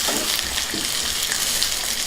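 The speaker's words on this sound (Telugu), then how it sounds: "వీటిని బాగా వేగనిద్దాం." Mustard tempering with sliced onions, curry leaves and dried red chillies fries in hot oil in a pan, giving a steady, close, even sizzle with light stirring scrapes, no voices.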